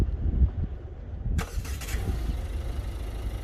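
A car engine cranks and catches, then settles into a steady idle rumble with a faint high whine after starting.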